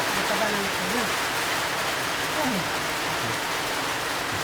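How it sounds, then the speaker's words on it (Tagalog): Heavy rain pours down as a dense, steady roar that fills the whole clip, with voices talking faintly beneath it. "Ay, malakas na yung ulan mga kalangga."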